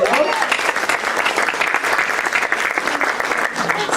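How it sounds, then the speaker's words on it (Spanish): Church congregation applauding during a Spanish-language service, a steady, dense round of clapping across the room with voices mixed in underneath throughout. "Damos un aplauso al Señor"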